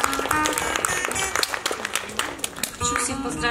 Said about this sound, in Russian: Встречаем. Аплодисменты.